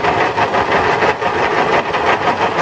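A milling machine cuts a steel T-nut part under slow hand feed, giving a steady, dense grinding whir that continues without a break throughout.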